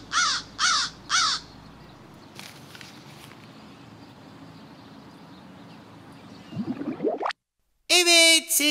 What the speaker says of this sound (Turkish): Sesin kaynağı çakıl taşlarıyla oyun oynayan bir kargadan başkası değildi.